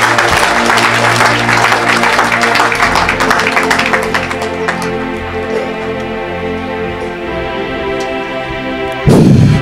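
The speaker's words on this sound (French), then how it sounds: "Acclamez." Congregation applauding and cheering at a deliverance church service, a loud, sustained wash of clapping that thins out midway as a tonal drone carries on, then a short burst near the end.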